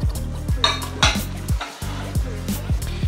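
Beef and spring onion stir-fried in a pan for Cantonese-style beef ginger kuey teow, heard as repeated scraping and clanking of a utensil against the pan in a steady rhythm, close and fairly loud, with no talk.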